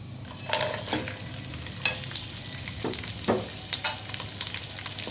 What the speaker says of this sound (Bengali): হালকা ভেজে নিচ্ছি বাদাম